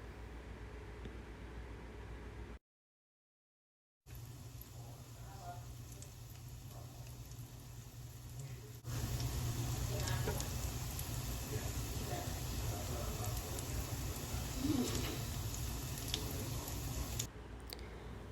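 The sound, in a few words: dumplings frying in oil in a skillet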